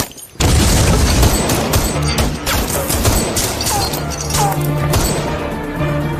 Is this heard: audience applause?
no